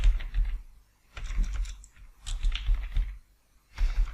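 Someone types a name on a computer keyboard in short, irregular bursts of close, crisp keystrokes separated by brief pauses.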